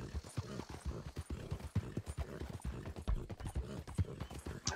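Hoofbeats of a strawberry roan Ardennes draft horse ridden across open ground in Red Dead Redemption 2, a steady, fairly close clip-clop rhythm of heavy hooves throughout, with faint background ambience.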